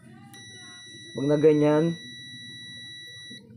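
Multimeter in continuity buzzer mode beeping while probing a Vivo Y91 phone motherboard, a single steady electronic tone lasting under a second, loud and close, with someone talking before and after it.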